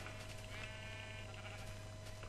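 A sheep bleats in the Minecraft video game as a soft, wavering call over a steady background hum and game ambience, with no talking.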